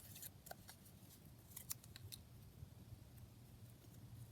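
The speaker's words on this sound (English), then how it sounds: "And then I'll tear these couple now." Paper torn by hand into scrappy strips for junk journal word embellishments, giving a few short rips and crisp tearing bursts over a low steady hum, fairly quiet and close.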